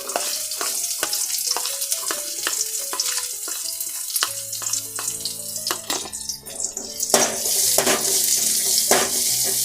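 Sliced onion frying in oil in a pan while preparing bhindi masala palya, a steady hiss of sizzling broken by repeated clinks and scrapes of stirring, with soft background music tones.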